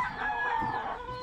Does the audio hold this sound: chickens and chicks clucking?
yes